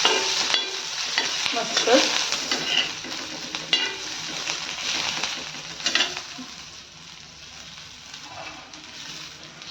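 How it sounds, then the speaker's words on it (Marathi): Garlic and cumin dry-roast in a pan for a spicy village-style chilli chutney, giving a steady close sizzle broken by scraping stirs, with one short spoken word. "लसूण आणि जिरं आपण त्यात टाकून घेऊयात, जेणेकरून लसूण आणि जिरं देखील छान असं भाजलं जाईल."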